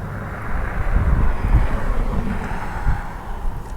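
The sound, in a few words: airliner flying over LAX airport runway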